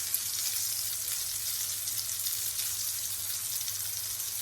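A flat burger patty sizzles in a pan, a steady bright frying hiss with a low hum beneath, continuous and close with no talking.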